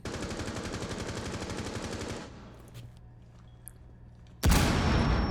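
Rapid automatic gunfire from a Rainbow Six Siege match bursts in a fast, even stream for about two seconds, then drops to quiet background game noise before another loud burst of shooting cuts in near the end.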